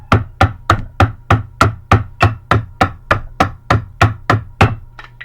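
A high school drumline plays the variation called Z's, a fast, even run of about sixteen sharp, crisp snare-like strokes at a steady rhythm, close and loud with no talking.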